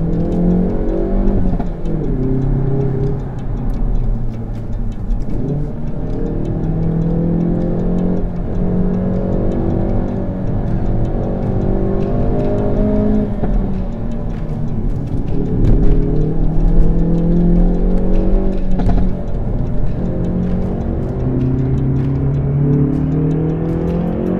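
A 2018 Hyundai i30 N Performance engine revs loudly and repeatedly, its pitch climbing and dropping through repeated throttle blips and accelerations, heard close and continuous.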